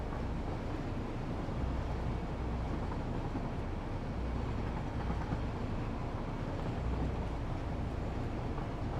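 A train runs in the factory-building game Satisfactory, giving a steady, dense rumble with a low, even drone that never lets up, with no talking.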